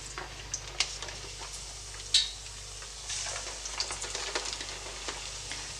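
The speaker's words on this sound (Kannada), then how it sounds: "ಇವಾಗ ನಾನು ಇದನ್ನು ಒಂದೊಂದಾಗೇ ಎಣ್ಣೆಯಲ್ಲಿ ಬಿಡ್ತಾ ಹೋಗ್ತೀನಿ" Pieces of nippattu dough slipped one at a time into a pan of hot oil, frying with a soft steady sizzle and a few small ticks and splashes, close and fairly quiet, with no talking.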